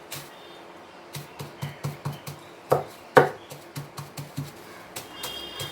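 Garlic cloves wrapped up inside a steel strainer are banged repeatedly, giving a series of sharp, close knocks in uneven rhythm, two louder hits standing out midway, with no talking.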